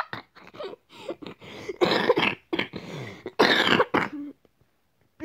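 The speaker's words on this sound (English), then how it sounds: "I apologize for me coughing." A person coughs repeatedly and clears their throat in close, loud, ragged bursts, followed by a short silence at the end.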